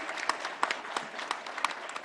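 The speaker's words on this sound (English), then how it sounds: "Can we have a round of applause for Bruce, please, as well, for asking that?" An audience at a digital health conference plenary session gives a brief round of applause, a dense patter of many hands clapping at moderate loudness, with scattered sharper claps standing out.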